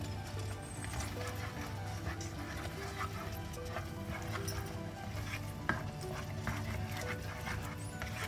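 Shredded paneer is stirred into cooked mango pulp for mango kalakand, soft repeated scraping and low bubbling sizzle at a quiet level, steady throughout with one sharper knock.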